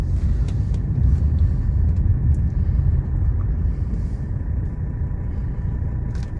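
The diesel engine of a 1984 Mercedes 300D drones steadily and loudly from inside the cabin on a gentle test drive, giving a continuous low rumble with no talk over it.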